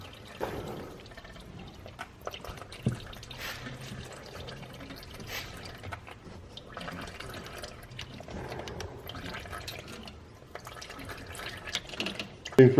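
Power steering fluid drains from a disconnected line on a BMW, a faint, steady trickle and drip heard close by under quiet background noise.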